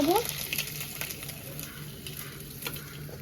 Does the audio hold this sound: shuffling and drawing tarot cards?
no